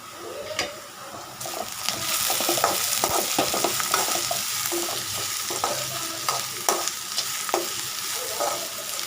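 Onions sauté in a pan with a steady, close sizzle that swells after a quieter start, overlaid by repeated spatula scrapes and light knocks against the pan.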